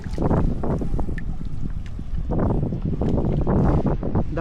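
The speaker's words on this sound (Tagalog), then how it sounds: "grabe ang hangin" Strong wind buffets the microphone out on a boat at sea, a steady loud roar with gusty swells and some water sloshing, no voices.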